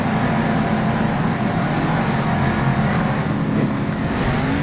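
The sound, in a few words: Monster Jam monster truck El Toro Loco Ice racing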